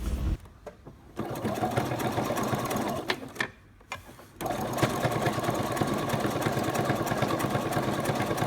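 A domestic sewing machine runs fast and close while top-stitching a cargo pocket, with bursts of rapid mechanical whirring broken by short pauses before a longer steady run.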